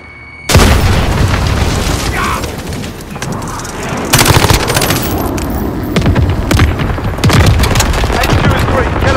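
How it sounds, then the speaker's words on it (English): White phosphorus strikes explode in a military shooter video game: loud booms and rapid bursts of gunfire crowd together close by, with radio-style voices calling out over the din. "Enemy white phosphorus inbound!"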